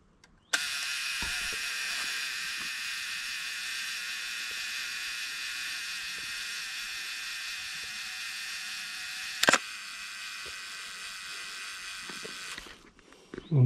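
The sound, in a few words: camera self timer and shutter release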